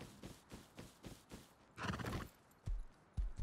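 A video game horse gives a loud, drawn-out neigh, framed by a steady run of clip-clopping hooves before and a few heavy hoof thuds after, with no talk.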